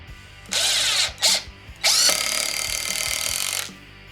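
A RIDGID Gen5X drill from the R9652 combo kit, set to speed mode 3 with 2,000 inch-pounds of torque, drives a screw into wood: two short whirring bursts, then one long loud run, close up.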